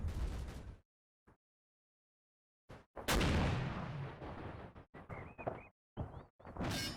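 A tank shell glancing off a gun mount in the Normandy battle game Combat Mission, a sharp heavy boom with a crack and rumbling tail after a short silence, followed by further impact bursts.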